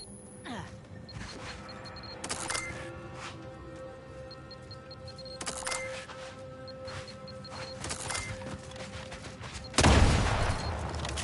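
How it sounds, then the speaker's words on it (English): Bombs going off in The Outer Worlds 2: several sharp blasts spaced a few seconds apart over a constant hum, ending in a heavy, louder booming explosion. "Oh god, bombs everywhere."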